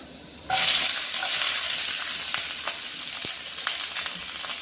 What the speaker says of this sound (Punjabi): ਹਰੀ ਮਿਰਚ ਆਪਣੀ ਭੁੱਜ ਰਹੀ ਹੈ ਜੀ